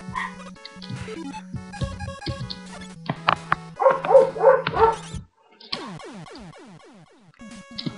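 A dog gives a quick run of yips and barks midway, heard over bright chiptune music from a Rockman video game playing in the room.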